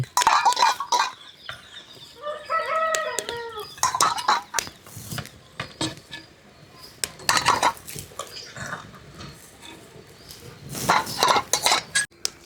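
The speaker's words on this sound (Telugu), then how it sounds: "ఉడికిపోయిన కోడిగుడ్లని ఒక గిన్నెలోకి తీసుకుందామండి" Boiled eggs clink and clatter into a metal bowl in several bursts of sharp knocks and rattles, with quieter handling sounds in between.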